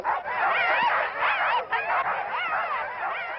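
Sled dogs bark and yelp in a dense, continuous chorus at the lined-up start of a sled dog race, many animals overlapping loudly and close with no pause.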